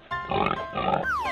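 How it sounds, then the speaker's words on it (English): A pig grunts twice in quick succession, close and fairly loud, followed by a rising squeal-like tone at the end of the short burst. "Pig."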